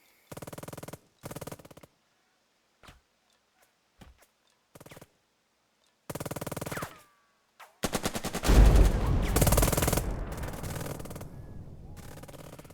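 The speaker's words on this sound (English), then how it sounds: "we'll just shoot at this officer again" Gunfire at an officer in the video game Burden of Command, starting as short separate bursts with pauses between them and building to a louder, denser volley near the end that fades into a rumbling tail.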